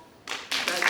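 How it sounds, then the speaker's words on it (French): Short burst of audience applause at a live comedy show, starting abruptly partway through and swelling near the end, moderately close and fairly brisk. "Par applaudissement?"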